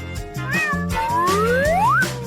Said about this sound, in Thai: ฉันซ่อนลูกแมวไว้ในกระเป๋ากล้องเดี๋ยวนี้เลย